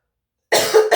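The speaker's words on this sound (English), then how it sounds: "I think I'm gonna still have to cough." A single person's cough bursts out after half a second of silence, close and fairly loud, followed by a second shorter cough.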